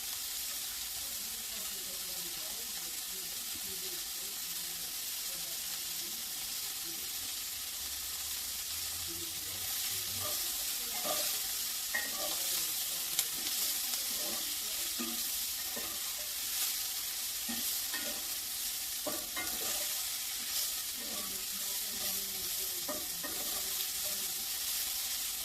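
Onions and peppers sizzle steadily in a pan as a continuous hiss, with scattered light clicks and scrapes from stirring throughout, no voices.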